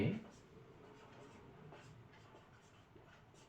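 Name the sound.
writing by hand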